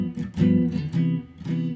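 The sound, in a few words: guitar playing ii-V-I shell voicings in quarter notes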